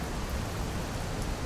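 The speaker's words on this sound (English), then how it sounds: "Yeah, it's definitely raining." Steady rain falls in a GTA roleplay mod video game, a continuous even hiss of downpour with no distinct drops standing out and no voices over it.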